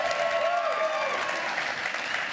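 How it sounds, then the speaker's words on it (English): A live audience at a Sylvester Stallone event in Hollywood applauds warmly for the series Tulsa King, a dense, steady clapping with faint whoops that stays full throughout. "we need to give a big round of applause for Tulsa King"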